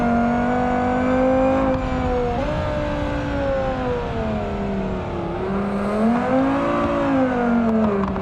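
A 4-cylinder car with a 6-speed sequential gearbox revs steadily in BeamNG.drive, its loud engine whine rising and falling with throttle over several seconds.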